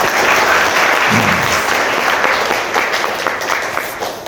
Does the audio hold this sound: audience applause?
yes